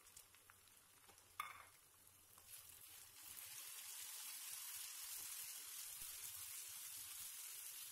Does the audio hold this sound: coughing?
no